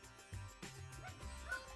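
A small dog gives a few quick yips and soft barks indoors, a little off-mic, with brief whimpers between them.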